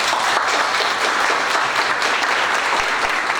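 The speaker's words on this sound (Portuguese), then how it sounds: "eu gostaria de pedir de vocês uma salva de palmas a essas pessoas" Steady, full applause from an audience at a university board inauguration ceremony, dense and even throughout with no pause or speech.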